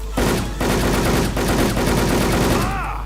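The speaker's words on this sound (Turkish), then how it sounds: "bir kişi snip kullanıyor, diğerleri vuruyor" Continuous loud automatic gunfire from the online shooter Wolfteam, dense rapid bursts with a sniper and other players firing together, filling the whole stretch.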